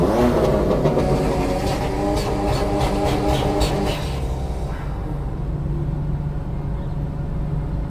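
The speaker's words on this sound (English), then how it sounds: "Sure, now the launch control is crazy, actually." Car at a loud car meet in Cape Town doing a launch control start, its engine held at a harsh, buzzing high rev for several seconds before dropping to a lower rumble, loud and near.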